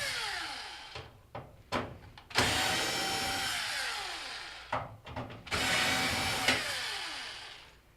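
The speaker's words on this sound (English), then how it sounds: "So we'll take these couple bolts or screws off." A power screwdriver whirs in two sustained bursts, winding down, as screws are backed out of a panel on a Jenn-Air microwave during repair, with short clicks and brief spins between, close up and alone.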